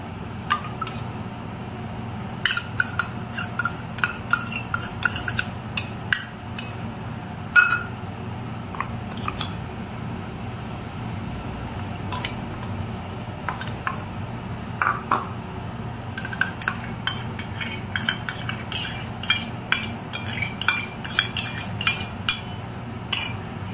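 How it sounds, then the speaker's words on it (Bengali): Paneer is worked together with spices and warmed mustard oil in a bowl, producing a steady run of close clinks, scrapes and taps of a utensil against the bowl over a soft background hum, with no talking. "সব মশলাগুলো দিয়ে এখন পনিরটাকে কিছুক্ষণের জন্য মেখে রাখবো"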